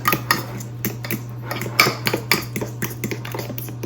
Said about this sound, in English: we're just gonna make sure that's stirred up and get those corners